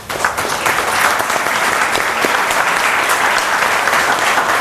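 An audience at a Gujarat Innovation Society event breaks into steady, sustained applause, dense clapping from many hands filling the room evenly from start to finish.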